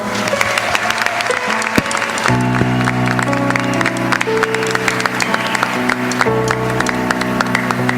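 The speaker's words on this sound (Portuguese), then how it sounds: "Vamos aplaudir o Senhor?" A church congregation at a Catholic Mass applauds steadily, dense clapping under organ or keyboard chords that hold throughout, loud and close, with no speech.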